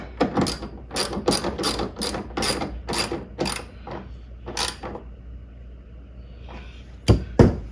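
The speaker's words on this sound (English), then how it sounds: "hand tighten it down, use my 10mm socket" A socket wrench ratchets a 10mm bolt on a Honda Element rear hatch, giving close, crisp bursts of rapid clicking in repeated strokes with short pauses and a couple of sharp knocks at the end, no voices.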